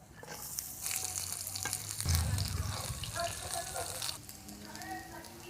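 Whole cinnamon, cardamom, cloves and bay leaf fry in pure mustard oil in a frying pan for mango pickle, giving a steady loud sizzle with stirring scrapes that swell midway.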